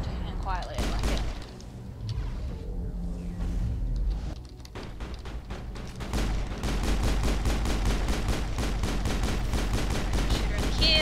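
Gunfire in Mass Effect, with scattered shots early on, then sustained rapid automatic bursts that dominate the second half, under occasional talk.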